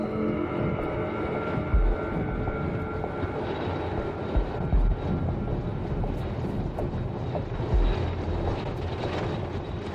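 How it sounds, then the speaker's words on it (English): US Harrier jets approach the aircraft carrier HMS Ark Royal in poor visibility, heard as a steady, loud, broad jet and engine roar with wind and ship noise throughout, no voices. "the US Harrier jets are on their way"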